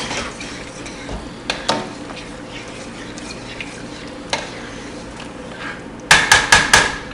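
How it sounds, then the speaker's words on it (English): A spoon stirs cooked macaroni noodles into cheese sauce, giving a continuous wet, sloppy scraping with a few knocks. A quick run of four loud metallic taps against the pot comes at the end. "We're going to add our noodles to our cheese sauce. Stir it around really well."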